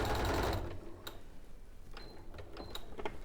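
A sewing machine top stitching a quilted jacket with wadding, a centimetre from the edge, runs in a loud burst at the start, then slows to a series of sparse mechanical ticks and short stitching pulses.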